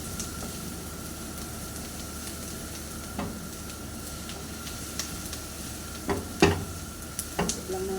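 Onions sizzling in oil in a frying pan for chicken curry, a steady close hiss that runs throughout, with a few scraping stir strokes and clinks of the utensil toward the end.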